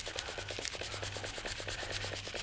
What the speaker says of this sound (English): Vigorous rubbing.